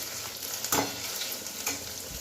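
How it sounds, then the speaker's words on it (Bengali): Water poured onto a sizzling ginger spice paste in a pan for a fig curry, a sharp burst of frying hiss followed by a steady sizzle with a little stirring. "জল দেবো একটু শুকনো শুকনো আছে একটু জল দিয়ে দেবো"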